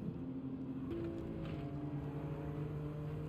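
Turbocharged car engine in a racing video game, a steady droning engine note holding a sustained pitch that shifts once early on, continuous and fairly quiet with no talk over it.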